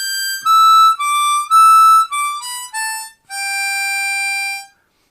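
Harmonica playing a pentatonic riff, a run of clear, separate single notes stepping down in pitch that ends on one long held note, close and loud with nothing else heard.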